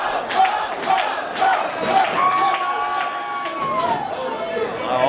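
A wrestling crowd cheers and shouts in swelling waves, with commentators talking over the roar.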